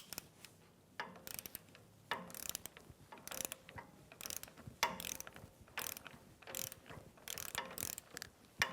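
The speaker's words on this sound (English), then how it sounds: "let's go ahead and tighten this down and torque it to 70 foot-pounds" A wrench ratchets a sway bar link nut tight on a 1997-2006 Jeep Wrangler front suspension, giving about eight close, quiet bursts of clicking in an even stroke-by-stroke rhythm.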